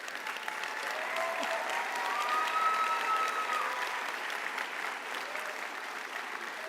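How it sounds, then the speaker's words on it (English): Health professions graduates and guests applaud at an Oklahoma City Community College commencement ceremony, a broad sustained clapping from a large crowd in a hall, swelling slightly in the middle, with a faint voice briefly over it. "Give yourselves another round of applause."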